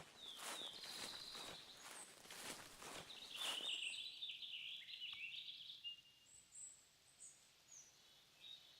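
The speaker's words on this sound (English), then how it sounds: "Listen, try and listen for birds, ptarmigans." Ptarmigan calls in the hunting game theHunter Classic, a few faint high chirps coming through after footsteps crunch across the ground, thin and distant in a quiet outdoor scene.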